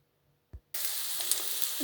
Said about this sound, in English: I'm going to start frying and stir frying the vegetables